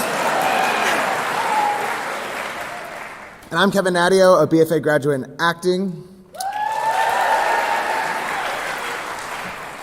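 Audience applause at a graduation convocation for a music and acting conservatory, a sustained broadband roar that fades out as someone speaks, then swells back loud and steady once he stops.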